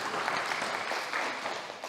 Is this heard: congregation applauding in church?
yes